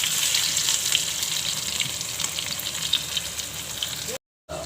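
Chopped garlic frying in hot oil in an Indian mixed-vegetable dish, with a steady close hiss and crackle throughout, running on alone with no talk, then cutting briefly to silence near the end.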